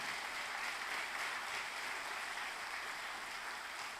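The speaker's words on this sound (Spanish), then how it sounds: "Dale fuerte palmas al Señor." A church congregation claps hands in a steady, dense wash of applause that stays even and fairly distant throughout, with no voices standing out.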